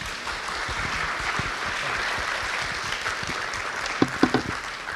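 Audience applause at a human rights panel during a Pride event, a soft, even patter of clapping from a modest crowd lasting about five seconds, with a few louder claps or knocks near the end.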